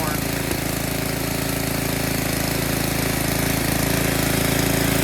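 A snowblower engine runs steadily at full throttle after a clogged pilot jet was cleared, its loud, even drone holding without any surging or hunting across the whole stretch.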